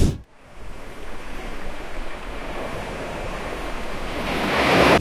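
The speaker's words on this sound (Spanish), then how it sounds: "aquí sí que se escucharían las olas" Ocean waves roll and wash continuously in an AI-generated seaside scene, a steady broad surf roar with a soft wind-like hiss that swells louder toward the end, with no voices.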